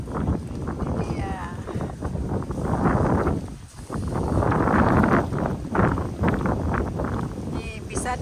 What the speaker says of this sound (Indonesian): anginnya kencang sekali. Sampai tulipnya merunduk.